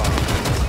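Gunfire in Rainbow Six Siege, a brief, loud, dense burst of shots, close and heavy.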